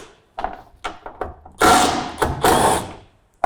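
Two 10mm tail light screws come out of a ute with the tailgate open: several close knocks and taps, then two loud rasping bursts of a driver or tool at work.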